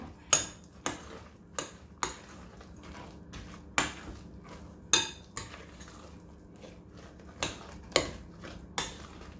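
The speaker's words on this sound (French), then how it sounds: "Je mélange bien." A utensil repeatedly knocks against a bowl while mixing Oreo cake batter, producing sharp clinks at an irregular rhythm roughly every second, close and clear over quiet background.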